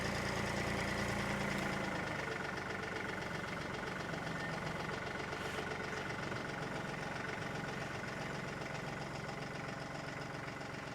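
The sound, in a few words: tractor loader engine running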